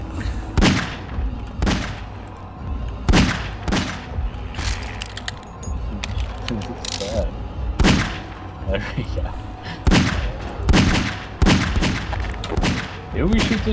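Gunfire from the Garry's Mod horror game, repeated loud booming shots at irregular intervals over constant in-game noise, with a player talking excitedly between and over the shots.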